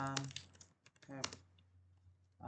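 Quick bursts of keystrokes on a computer keyboard while entering text into a document, clicking close to the microphone as someone talks between and over the taps.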